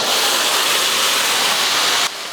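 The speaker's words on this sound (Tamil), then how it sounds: "இப்போ நம்ம வேக வச்ச மட்டன் சேர்த்துடலாம் அந்த தண்ணியோடையே சேர்த்துக்கலாம்" Boiled mutton poured into a pan together with its cooking water, giving a loud continuous rushing splash and sizzle that cuts off abruptly near the end.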